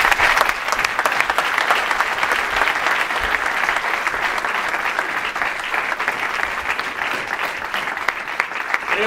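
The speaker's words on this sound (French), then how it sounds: "on les applaudit autant plus fort cette année" A variety-show audience in Le Pin-en-Mauges applauds steadily and loudly for the twin newcomers of the Fil Rouge troupe, a dense, sustained wash of clapping that fills the whole stretch without letting up.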